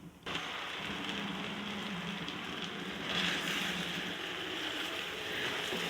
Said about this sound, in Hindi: और देखिए बस कितने मज़ेदार तरीके से चिकन भून रही है